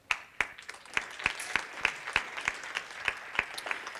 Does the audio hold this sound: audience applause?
yes